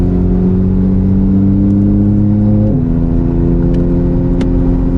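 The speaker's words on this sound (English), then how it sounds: "First time driving a GT3 on track." A 2018 Porsche 911 GT3 of the 991.2 generation runs on track, its engine a loud, steady high-pitched wail heard from close by that drops briefly in pitch at a gear change, then holds on again with no talking.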